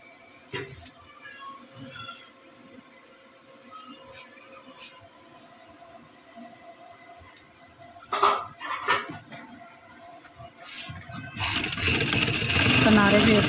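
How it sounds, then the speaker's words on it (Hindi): A sewing machine running along a folded shirt edge, a light mechanical whir broken by short stitching bursts that grow into a loud, steady run near the end, with a voice speaking in between. "किनारे पे एक सिलाई लगा लेंगे।"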